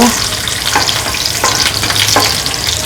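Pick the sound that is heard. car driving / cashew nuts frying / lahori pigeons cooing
cashew nuts frying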